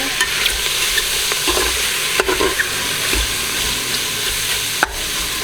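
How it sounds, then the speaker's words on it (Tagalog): Garlic sizzles loudly in a pot while being stirred, a constant close frying hiss broken by a few scrapes and clanks of the utensil against the pot. No one talks. "let's open the lid and give it a stir"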